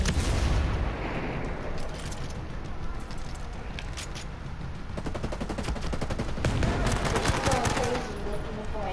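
Gunfire in the video game Ghost Recon Breakpoint: a busy firefight of overlapping shots and booms, with a fast automatic burst near the end, loud and close, with some voice chatter under it.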